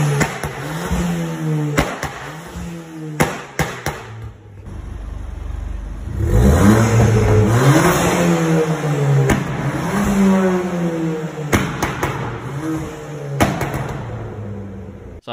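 A car engine with a straight-pipe exhaust and stage 2 flame map revs hard in repeated bursts, loud raspy exhaust roar climbing and falling, several sharp throttle blips before and after a longer sustained rev.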